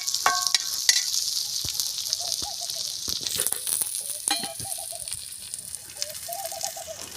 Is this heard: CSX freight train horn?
no